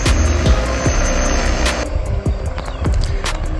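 A drone carrying a magnetometer flies a mine-detection mission over a minefield, its buzzing motors droning steadily and fairly loud nearby with wind noise, and no talking.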